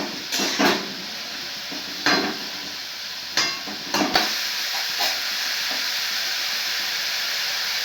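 Mushrooms frying in a pan with a cashew paste, yogurt and tomato paste masala make a continuous hissing sizzle, broken by several sharp stirring clinks of a spoon against the pan.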